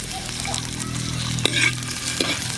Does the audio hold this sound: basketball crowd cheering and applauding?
no